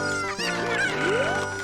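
Cuckoo chickens in the video game Ocarina of Time cluck and squawk loudly and close up, a quick burst of rising, warbling fowl calls with no talking.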